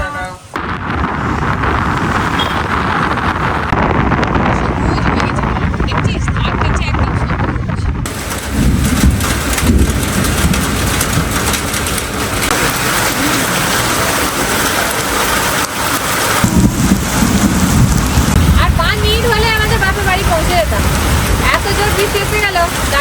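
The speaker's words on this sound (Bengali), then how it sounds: "প্রচুর বৃষ্টি" Heavy rain pours continuously, a loud dense roar filling the whole stretch with a rumbling low end, and faint voices briefly surfacing near the end.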